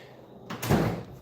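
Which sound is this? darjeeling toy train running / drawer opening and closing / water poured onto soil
drawer opening and closing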